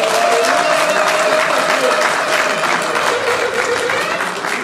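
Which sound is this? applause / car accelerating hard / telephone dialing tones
applause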